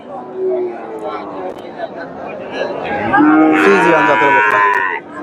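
Several cattle, Friesian and crossbred cows, low and moo loudly over a busy crowd murmur at a livestock market, the calls growing louder and overlapping toward the end.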